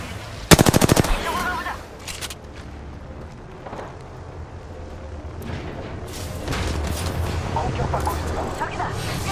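Gunfire in Apex Legends: a rapid close burst of automatic shots near the start, followed by scattered distant shots and game action noise, with voice lines heard now and then.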